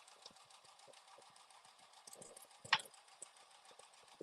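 A sewing machine stitching an outdoor mini mat with pockets, a low steady mechanical whir with faint ticking that runs quietly for several seconds and jumps in a brief louder burst partway through.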